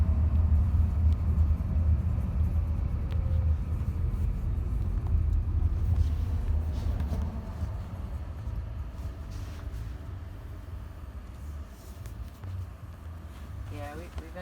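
A Jaguar I-Pace all-electric SUV turns around in a U-turn, giving a steady low road and tire rumble that eases slightly partway through, with cabin noise and people talking inside.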